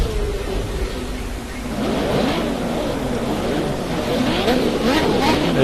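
Race car engine in a racing video game climbs and shifts through rising revs, the pitch sweeping up and down repeatedly over a steady loud roar.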